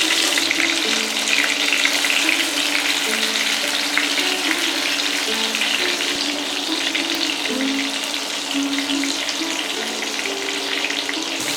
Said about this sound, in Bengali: তেলটা গরম হলে বেগুনের পিসগুলোকে ভাজার জন্য দেব।